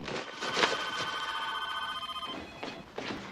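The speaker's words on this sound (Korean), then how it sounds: "다시 전화가 걸려옵니다." An incoming call in a film scene sets a telephone ringing close by, with bright, sustained electronic ring tones followed by short repeated bursts.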